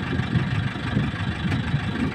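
A four-cylinder Powertrac 4455 tractor with a 55 hp engine runs steadily, giving a continuous low rumble with a grainy mid-range drone at constant loudness.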